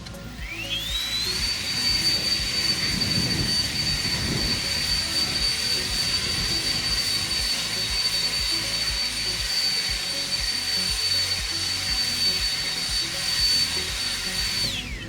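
An Aoetree battery leaf blower runs on high turbo mode, spinning up within the first second to a loud, steady high-pitched whine with rushing air that holds constant to the end.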